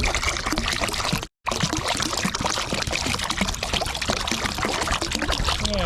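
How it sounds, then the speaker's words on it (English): Distilled water poured steadily from a container, a continuous close splashing trickle broken by one brief gap, alone without talking. "Now I'm going to add some more of the distilled water."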